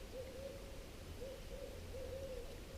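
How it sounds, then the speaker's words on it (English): A barred owl hoots repeatedly at a distance in the early afternoon in the Grand Canyon of the Pacific backcountry, its steady low calls rising over constant wind or water noise. "I just heard a barred owl over there,"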